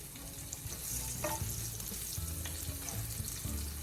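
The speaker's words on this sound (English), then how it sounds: "Sauteing them." Chopped onions and garlic sauté in oil in a pan for a Zamboanga-style glass noodle dish. A soft, steady sizzle is heard with occasional light stirring taps, and no one talks.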